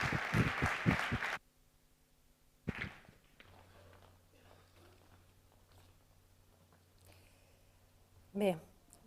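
Conference audience applauding for a speaker at an inaugural lecture, a short burst of clapping that ends abruptly, then near silence with faint shuffling and a brief voice later.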